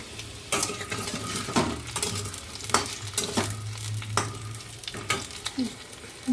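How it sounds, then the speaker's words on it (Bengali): Potatoes frying in a pan, an even close sizzle with repeated scrapes and taps of a utensil against the pan, heard alone without talk. "চটপট আলুটাকে ভেজে নিই, তারপরে পেঁয়াজ।"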